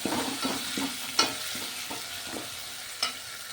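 Roasted green chilies frying and being stirred in a pan, giving a steady close sizzle broken by several sharp scraping stirs, with no talking.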